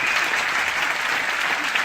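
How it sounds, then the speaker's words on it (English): Steady, dense applause from a large seminar audience at a success-training event in Kuala Lumpur, filling the whole moment with even clapping and no break. "Give yourself a big round of applause."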